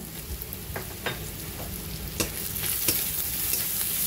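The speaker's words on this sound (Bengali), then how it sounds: "পেঁয়াজ ক্যাপসিকাম ভাজা হতে হতে দিয়ে দেবো আমি পরিমাণ মতো নুন" Onion and capsicum frying and sizzling in a pan for baby corn Manchurian, with steady hiss and several sharp stirring scrapes of a spatula, close and fairly loud, no talking.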